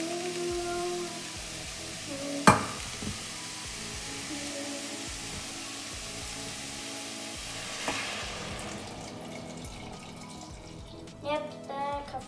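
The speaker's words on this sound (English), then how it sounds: "now just to stir it around a little more" Carrot soup ingredients are stirred in a pot, giving a steady wet scraping and sizzling texture with one sharp clank near the start and a few soft knocks toward the end.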